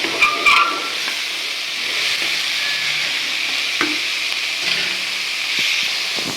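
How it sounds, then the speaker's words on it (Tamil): Carrot and beans hiss and sizzle while being stirred in a frying pan for hotel-style vegetable kurma, a steady close frying sound with occasional scrapes and clinks, no talking. "கேரட்டு பீன்ஸு பொடியாக கட் பண்ணி வச்சுருந்து அதை சேர்த்துக்கலாம் கொஞ்சம் நேரம் விதக்கட்டும்"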